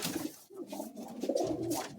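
Flying pigeons coo softly in a loft nearby, low throaty rolling calls overlapping in a continuous murmur with no voices.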